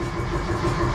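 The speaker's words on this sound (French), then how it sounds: "Donc ça veut dire que mon démarreur marche bien" A car engine turning over on its starter motor, steady mid-pitched cranking drone running continuously for about a second, close and fairly loud, with no voices.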